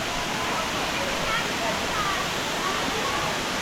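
A waterfall pours in a steady, dense rush of falling water, loud and continuous, close by without any break.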